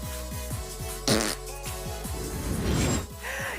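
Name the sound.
fart noise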